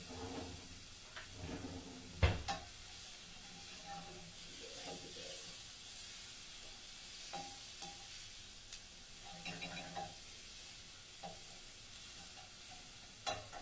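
Onions fry in a pan with a quiet, steady sizzle and hiss, broken by occasional scraping and tapping as they are stirred, one sharper knock early on, with no talking.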